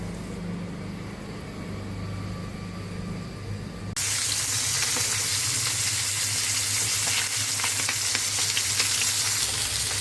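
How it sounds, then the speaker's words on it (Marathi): Pomfret fries in a pan, starting with a quiet low hum before a loud, close, crackling sizzle suddenly takes over at about four seconds and stays strong to the end, with no voices. "बघा आपले पापलेट फ्राय झालेले आहेत"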